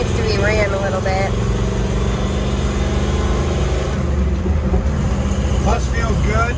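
A 1979 Jeep CJ5 engine runs steadily with a low rumbling drone throughout, while people talk over it close by.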